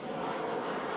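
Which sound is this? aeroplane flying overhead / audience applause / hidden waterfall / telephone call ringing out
aeroplane flying overhead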